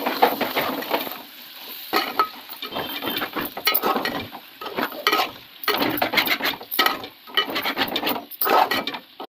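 Chicken fry being stirred in a pan, with repeated scraping and clattering strokes of a spatula against the cookware over a faint background sizzle, the strokes coming in irregular bursts with no talk.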